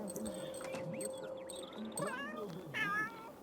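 Cats in The Sims 3 meow and yowl repeatedly in short rising and falling cries over a low game ambience, with a louder caterwaul near the end.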